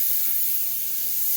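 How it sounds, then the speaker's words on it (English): Butter heated as hot as possible in a pan for a quick vegan sauté gives off a steady, close, even hiss of sizzling fat that runs unbroken throughout, with no talk over it. "So once that sizzles down, you just toss it lightly"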